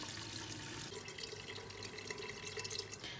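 Warmed almond water is poured into a pot of Moroccan Fez-style harira, a steady close liquid pour with light splashing that grows livelier partway through. No one speaks.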